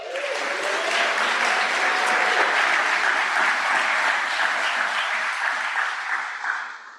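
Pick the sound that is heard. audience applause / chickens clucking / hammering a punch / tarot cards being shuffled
audience applause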